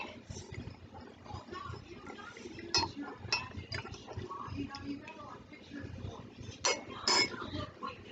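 A spoon stirs an iodine clock reaction mixture in glassware, giving scattered light clinks and taps, a few sharper knocks, over quiet background with faint voices.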